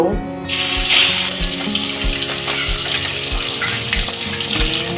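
Katla fish pieces rubbed with salt and turmeric drop into hot oil in a pan. A loud, steady wash of sizzle follows, with a rhythmic low tapping running through it and no voices.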